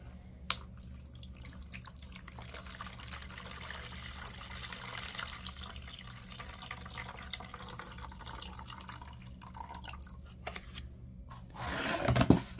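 Water clouded with suspended clay dust is poured out in a soft, continuous trickle and splash, faint and steady throughout, building to a louder gush at the very end.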